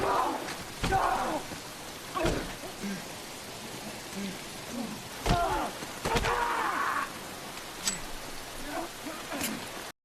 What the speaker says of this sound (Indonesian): disaksikan hujan lebat